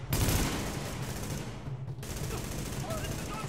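Gunfire and a blast in The Division video game, a loud opening burst dropping into dense rattling shots and crackle, with another surge after a brief dip.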